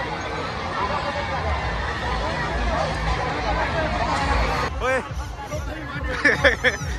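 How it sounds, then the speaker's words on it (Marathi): Thick crowd hubbub fills a packed religious yatra fair for Sant Shekh Mahammad Maharaj in Shrigonda, continuous babble and movement noise, with a nearby voice cutting in briefly near the end. "मरणाची गर्दी आहे यात्रेमध्ये"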